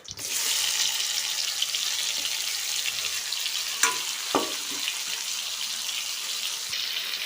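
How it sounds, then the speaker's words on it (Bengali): Marinated pointed gourd slices fry in hot oil in a wok, giving a loud, even sizzling hiss throughout with a couple of sharp utensil knocks midway and no voices. "তেলটা গরম হয়ে গিয়েছে, এর মধ্যে মেখে রাখা পটলগুলো ঢেলে দিব"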